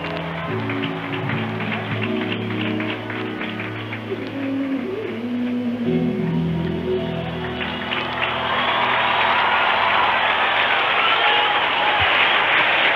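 Sustained crowd ovation from a large stadium concert audience at a 1988 show in Madrid, a dense roar of cheering and applause that swells louder in the second half, with music and an announcer's voice underneath.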